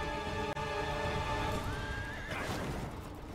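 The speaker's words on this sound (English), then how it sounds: "you can Tokyo Drift on your horse?" Horse in an online multiplayer video game whinnies loudly over a dense, steady game soundscape, with hoof clip-clops underneath and a brief dropout near the start.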